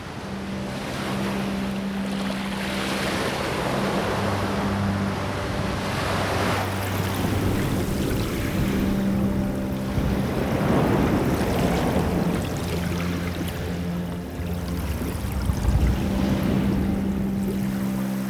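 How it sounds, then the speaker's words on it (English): Ocean waves pound a coral reef in steady, rolling surges, a continuous roaring wash of surf with gusty wind noise and no voices. "Cracks are opened up in this vast ring of coral by the relentless pounding of the ocean."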